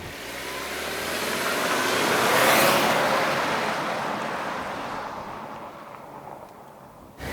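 A Subaru Legacy Turbo sedan sweeps past, its engine and tyre roar swelling to a peak midway and then fading away, with no voices.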